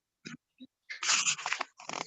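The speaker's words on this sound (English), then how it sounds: "we have some dogs barking" Dogs bark in a few short, close, choppy bursts over a remote call, with brief sniff-like sounds before a rougher flurry of barks.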